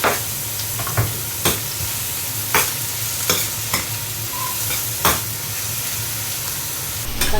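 Onion sautéing with garlic and ginger in oil in a pan, steady sizzling broken by sharp stirring scrapes every second or so, close and moderately loud.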